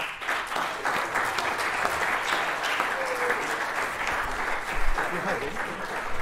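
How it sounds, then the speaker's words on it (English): An audience applauds at a school sixth form prize giving, a steady round of clapping from a crowd that holds evenly throughout. "can we just give her that round of applause?"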